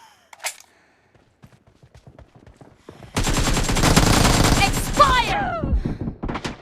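Air gun fire in PUBG Mobile, a loud sustained burst of rapid shots lasting a couple of seconds, preceded by quieter game sounds and a short voice call, then dying away with ricochet-like chirps.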